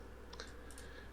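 A computer mouse double-clicks, giving two faint pairs of quick, close clicks against a quiet hum.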